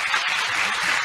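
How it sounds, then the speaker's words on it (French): An audience applauds at a Nuit du Droit event held by high school students, giving a dense, even patter of many hands clapping for a brief moment. "Vous méritez vos applaudissements."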